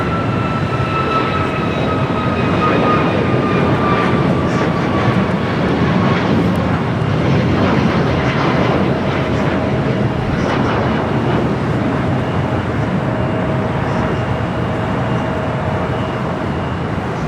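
Steady broadband jet roar from an 11-year-old Boeing 787-9 Dreamliner at Los Angeles LAX airport, heard from a hotel rooftop, with faint engine whine tones gliding downward across a continuous, unbroken rumble.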